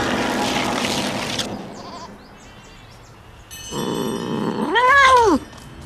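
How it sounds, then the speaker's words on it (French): A cat in the Animorphs video game lets out one loud, drawn-out snarling yowl near the end. Quieter game sounds and background noise come before it. "Contrôle l'esprit du chat, Rachel, maîtrise son instinct."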